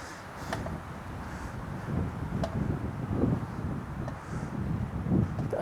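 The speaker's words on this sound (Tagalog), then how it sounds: "Tapos medyo mahangin." Steady wind rushes and buffets outdoors in the mountains of Sagada, Mountain Province, with low rumbling gusts and a few faint clicks.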